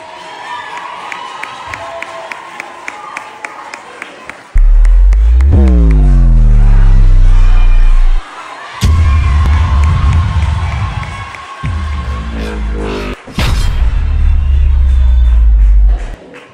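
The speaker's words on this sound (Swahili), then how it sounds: "Wakisimama tupige makofi." A church congregation at a Sunday school Easter gathering bursts into loud clapping and cheering in several close, full bursts separated by short gaps, with voices shouting among the applause.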